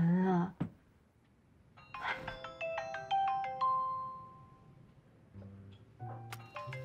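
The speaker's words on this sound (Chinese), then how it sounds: "妈打电话来了" An incoming call sets off a mobile phone ringtone in a home, a bright repeating melodic chime ringing clearly for a few seconds, with brief voices just before and after.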